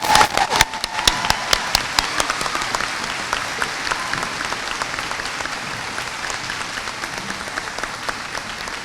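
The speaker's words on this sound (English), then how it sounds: "Please give them a big round of applause." A crowd at a high school graduation applauds steadily, many hands clapping with a few sharp louder claps up front, gradually thinning out toward the end.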